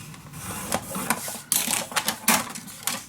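Paper scored along score lines for a scrapbook mini album, heard as a series of close, sharp scraping strokes and taps at irregular intervals, with no talk.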